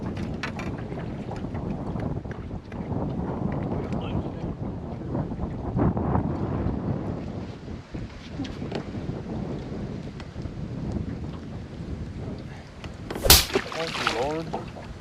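Strong wind buffeting a microphone on a fishing boat out on the water, a continuous rough rumble with gusts throughout and a sharp clatter near the end.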